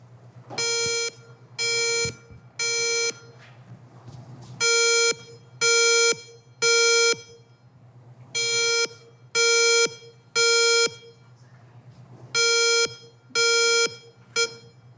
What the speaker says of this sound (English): play a short clip of what that alarm is going to sound like